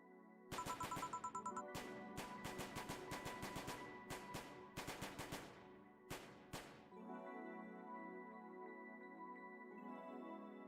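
Rapid bursts of gunshots in the video game VA-11 Hall-A, sharp repeated cracks in quick clusters, then dying away into a sustained synth tone, with no talk over them.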